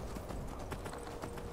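Hooves clip-clop rapidly and loudly from a horse in the fantasy game Skyrim, a brisk close rhythm over a dense, steady background.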